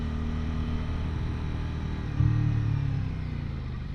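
An Aprilia RS 660 motorcycle ridden on the road, its engine droning steadily with wind rush, then a sudden louder surge as the revs climb and settle, heard from the rider's position without talk.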